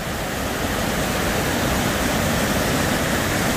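A waterfall roars in a steady, dense wash of broadband noise, close and loud, with no voices.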